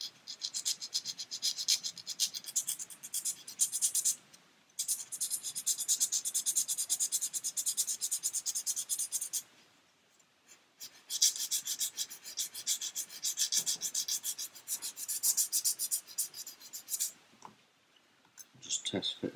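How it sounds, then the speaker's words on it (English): Repeated rough rubbing of 600 grit sandpaper against a 1/400 Queen Mary 2 ship model hull, close and steady in bursts of several seconds, separated by brief pauses. "I'm using a 600 grit here."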